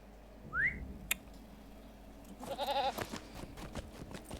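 A goat bleats in the Lord of the Rings Online video game, a short rising call followed by a wavering bleat about two seconds later, over low game ambience and a sharp click.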